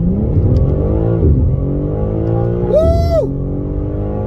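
A 2022 BMW M3 Competition xDrive with its S58 engine launching from launch control: a loud, sustained engine roar building under hard acceleration, with a sharp rising pitch sweep as it revs through a gear change.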